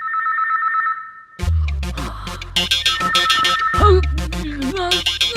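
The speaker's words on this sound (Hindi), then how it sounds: "फोन की घंटी बंद हो गई, मोबाइल यहाँ पड़ा हुआ है" A mobile phone rings with a steady electronic tone, then gives way to a busy burst of music and effects from a Hindi South Indian action film scene.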